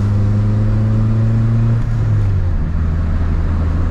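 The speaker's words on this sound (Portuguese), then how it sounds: "Tá fazendo barulho porque tá com escapamento esportivo" VW Gol G2 with a sport exhaust accelerating in third gear, a loud droning exhaust note that dips at a gear change then climbs steadily again, close and continuous.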